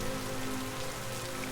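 Steady, even rain patters on surfaces in a Minecraft game, a continuous dense hiss with no voices over it.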